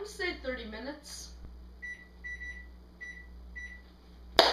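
An oven timer is set for a baking pie, giving four short, clear electronic beeps at a steady pace right after a voice finishes talking, over a low appliance hum.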